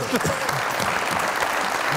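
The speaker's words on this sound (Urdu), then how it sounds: "بہت ساری تالیاں ان کے لیے" Studio audience of a Pakistani comedy talk show bursts into lively applause, a bright crackling wall of clapping with a voice talking over it throughout.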